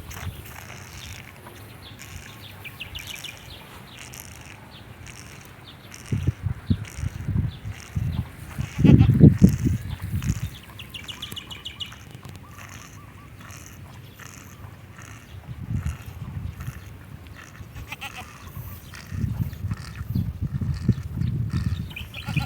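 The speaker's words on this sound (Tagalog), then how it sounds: "Yung mamang kambing dun, oh." Goats on a farm, including a mother goat, bleat in a few low, wavering bursts near the middle and again toward the end, over a quiet outdoor background with little talk.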